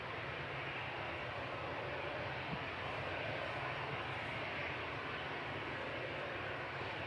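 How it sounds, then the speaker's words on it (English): An easyJet Airbus A320 takes off from Manchester bound for Geneva, its jet engines a steady, broad roar at moderate distance that stays constant throughout. "EasyJet's lined up and ready to go to Geneva with flight 2185."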